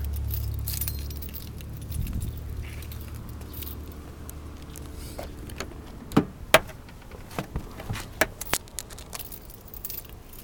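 Keys jangle and clatter as a car with a blown head gasket is started, an engine rumble running low beneath sharp metallic clicks and taps near the end, with no talk.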